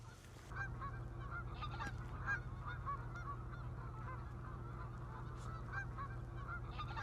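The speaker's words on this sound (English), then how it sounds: "We've got at least 25 to 30 greater white-fronted geese, and we got one flying right here." A flock of greater white-fronted geese, about 25 to 30 birds, keeps up steady, repeated honking calls at a middle distance over a constant low background hum, with no voices.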